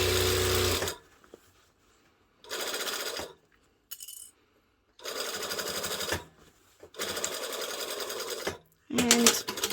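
An MC9900 embroidery sewing machine stitches around the handle and edges of a fabric Easter basket. It runs in several loud, steady whirring bursts separated by pauses, with faint clicks between runs.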